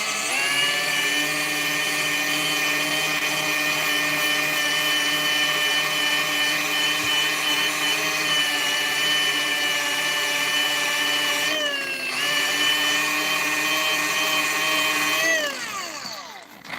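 A polishing mop loaded with G3 compound buffs a Honeywell Turbovisor DTVR part, whining steadily and loudly with a constant motor drone. The pitch dips briefly midway and then drops near the end as the mop slows. No talking.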